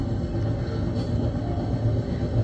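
A train passes through Canadian countryside, a steady, close rumble of rolling wagons with faint rhythmic clatter and no talking.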